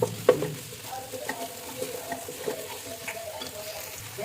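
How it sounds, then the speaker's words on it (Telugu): Coriander leaves frying and being stirred into a biryani mixture in a pan, with a soft sizzle under light scraping and clinking of a spoon, quiet and close, no talk. "తర్వాత కొంచెం కొత్తిమీర తీసుకొని కొత్తిమీర కూడా ఇందులో వేయించాలి"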